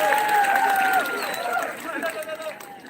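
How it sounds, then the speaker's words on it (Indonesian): Crowd applause and cheering at the closing ceremony of the 44th Bali Arts Festival in 2022, a dense wash of clapping that slowly fades, with an amplified voice over it. "Tepuk tangan untuk masyarakat Bali dan pengunjung khususnya."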